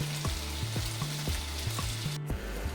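Mutton keema vada fry slowly in oil on a low flame, making a steady close sizzle over a low rhythmic thumping hum that repeats several times.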